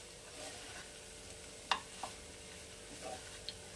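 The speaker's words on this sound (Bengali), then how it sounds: "দিয়ে দেবো রাইস। দিয়ে একটু নাড়াচাড়া করে নেব।" Rice being stirred in a pan for Mumbai-style tawa pulao: a quiet, steady low sizzle broken by a few sharp clicks and scrapes of the spoon against the pan, with no talking.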